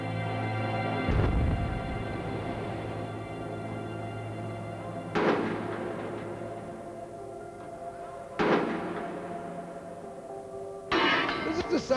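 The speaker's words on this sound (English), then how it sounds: "The shovel is being cut out even as we speak from an armoured car." Scrap metal from a war-abandoned armoured car being cut into a shovel: four loud, sharp metallic strikes spaced a few seconds apart ring over a steady humming drone.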